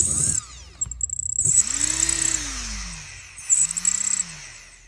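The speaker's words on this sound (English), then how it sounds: "And I just hold the motor and run it." A small electric motor, fitted in a motor swap and suffering a twitching fault, is held in the hand and run in short bursts, giving a high whine with rising and falling hum, close and fairly loud, no talking.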